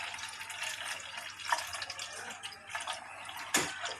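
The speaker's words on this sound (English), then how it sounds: "So I am going to put the water here" Water pours gently from a container into the tank of a Deerma F323 5L humidifier, a soft, faint, continuous trickle with a brief splash near the end.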